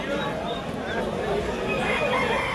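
A rooster crows at a busy bird market's poultry section, the call fairly faint and distant over a steady background murmur of chatter and other fowl.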